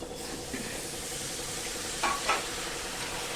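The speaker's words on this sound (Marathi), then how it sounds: "टोमॅटो टाकल्यानंतर परत एकदा छान हलवून घ्यायचं" Onion and tomato sabji is stirred in a pan over a constant sizzling hiss, with a couple of sharp spoon scrapes against the pan near the end.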